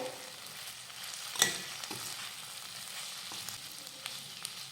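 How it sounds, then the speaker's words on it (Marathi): Cashew curry stir-fried in a pan with a spoonful of kasuri methi, a soft steady sizzle with a sharp clink of a spoon near the start and a few light scrapes. "आता यामध्ये घालूयात एक चमचा कसुरी मेथी आणि मिनिटभर हे परतून घेऊया"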